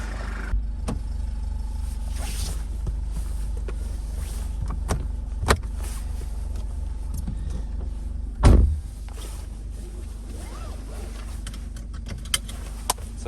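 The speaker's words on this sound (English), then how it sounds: "Let's go for a test drive" Inside a Nissan Qashqai J10 before a test drive, a low steady rumble runs under scattered clicks and small rattles, with one heavy door-like thud near the middle and no voices.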